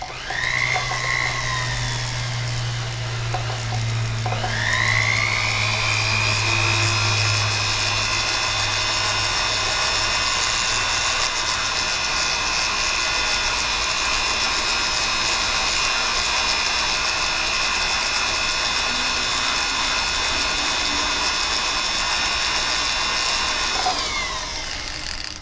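Polishing wheel buffing stamped metal blanks, a loud, steady motor whine that starts up, holds strongly for about twenty seconds and then winds down.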